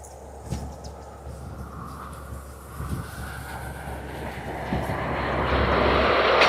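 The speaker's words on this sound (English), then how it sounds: "So we'll get this EasyJet departure." An EasyJet airliner departing Aberdeen Airport, its jet roar distant at first and building steadily louder as it approaches, a continuous broadband rumble with no talk.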